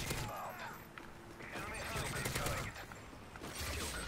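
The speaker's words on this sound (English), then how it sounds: "Now I'm getting shot from somewhere." Rapid gunfire in the video game Modern Warfare 3, a Kill Confirmed match, crackling in dense bursts under a player's talk and game noise.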